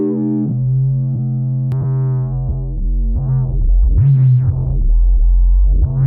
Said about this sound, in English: Let's push some distortion through it.